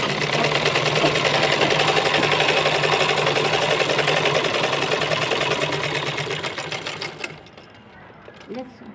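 A sewing machine stitching palazzo pants runs fast and steady close by, a dense rapid mechanical clatter that slows and stops near the end, with a person talking faintly over it.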